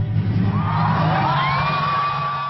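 A large outdoor crowd of about 6,000 Comic Con 2015 fans cheers and whoops at an evening San Diego Symphony concert, a dense, steady roar of voices with a few rising shouts carrying above it.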